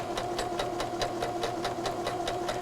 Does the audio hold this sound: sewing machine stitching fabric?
yes